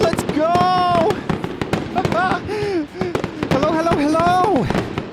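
Dense New Year fireworks over Sydney Harbour Bridge crackle and boom continuously, loud and close, with excited voices and cheering layered over the bursts throughout.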